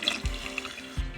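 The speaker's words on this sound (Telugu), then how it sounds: "దీంట్లో కొంచెం నీళ్ళు కూడా వేసుకుందాం." Water is poured into a pot of cooked dal in a home kitchen, giving soft splashing and trickling with a couple of low thumps, fairly quiet and with no voices.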